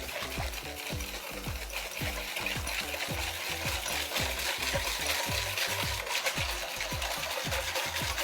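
Whisking in a bowl, a fast regular rhythm of whisk strokes tapping and swishing against the sides, steady and close throughout.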